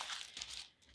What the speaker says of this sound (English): I'm going to cover it with a piece of just tissue paper, just like that.